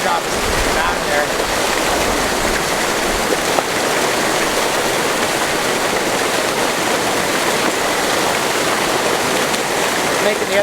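Fast river water rushing over rocks, a dense, continuous roar that stays loud and near throughout, with a few faint knocks early on and no clear talk.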